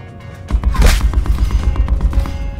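Rapid gunfire in a first-person shooter game, a dense burst of shots with sharp cracks and booming low end carrying on steadily throughout.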